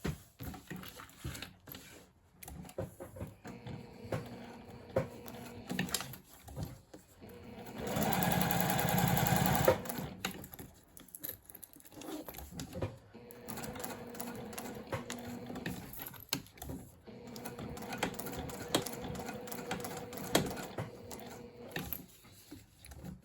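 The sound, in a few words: sewing machine quilting a bag flap and installing a zipper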